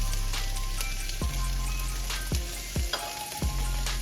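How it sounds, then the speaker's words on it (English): A cup of onions and a teaspoon of garlic sauté in a pan for tacos, giving a steady close sizzle with a few sharp stirring knocks and scrapes, and no one speaking. "We're gonna go ahead and saute this together."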